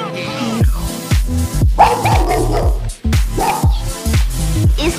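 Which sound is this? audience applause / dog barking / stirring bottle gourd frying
dog barking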